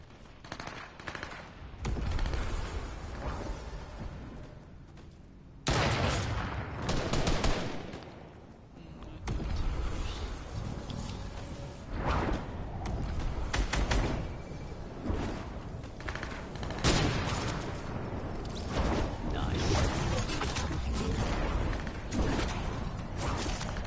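Sniper rifle shots in a team-based shooter video game ring out as several loud, sharp cracks with dense gunfire and game effects between them, steady and close throughout.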